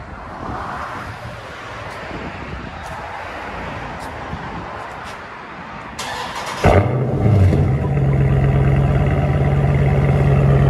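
A Dodge Challenger 6.4L HEMI SRT with a loud aftermarket exhaust fires up after a stretch of wind and ambient noise, then settles into a deep, rumbling idle close to the microphone.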